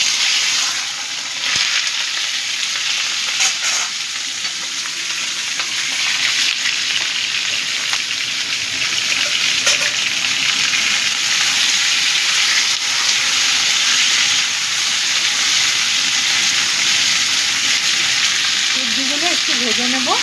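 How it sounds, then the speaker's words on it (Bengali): Ivy gourd (kundri) frying in a pan of oil with cumin tempering, giving a steady, loud, close sizzle with bursts of spatter that carries on unbroken throughout. "এবার আমি কুঁদরিগুলো দিয়ে দিচ্ছি।"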